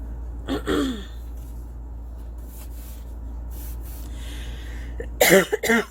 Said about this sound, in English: Still have this cough from when I was sick for all of December